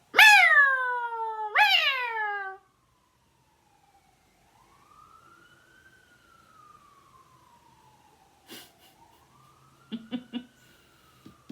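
A voice imitates two rising-and-falling cat-like wails, then a distant siren slowly wails up and down, faint, with a few brief clicks and knocks.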